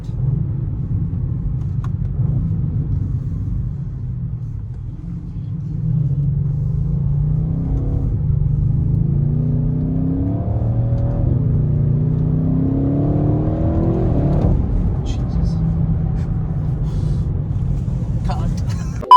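A 2021 Audi RS6 Avant engine rumbles steadily from inside the cabin, rising into a revving acceleration midway, with low road noise throughout.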